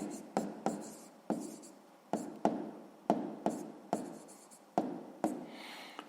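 Pen strokes writing by hand on paper while working a sixth-grade maths exercise, a run of about a dozen quick, close scratching strokes in an uneven rhythm, heard alone without talk.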